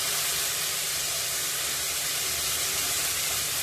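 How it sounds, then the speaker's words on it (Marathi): A tablespoon of masala paste sautéing in oil on a low gas flame for an orange-spotted grouper curry, a steady, even hiss and sizzle that stays constant throughout with no voices. "पेस्ट परतून घ्यायची आहे।"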